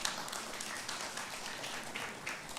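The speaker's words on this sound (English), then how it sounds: "Can we give him a round of applause, please?" Audience applause at an African forum on transitional justice, a quiet, steady wash of many hands clapping throughout, heard from a distance with no talk over it.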